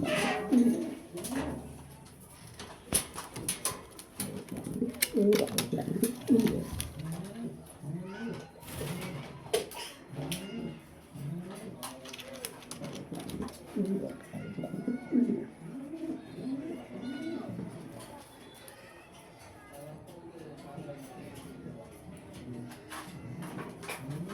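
Pigeons in a loft in Mirpur, Dhaka, cooing in repeated soft throaty bursts at close range, with scattered wing flutters and knocks, while someone talks over them.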